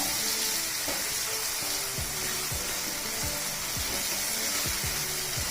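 Chopped medium tomatoes sizzle and fry steadily in a pan with onions for a broad-bean tomato curry, a continuous close hiss with occasional stirring scrapes and no talk.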